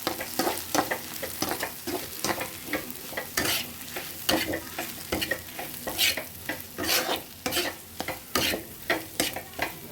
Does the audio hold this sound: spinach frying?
yes